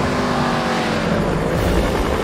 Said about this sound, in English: Somewhere that's never echoed to the sound of its thunderous 3-litre straight-eight engine.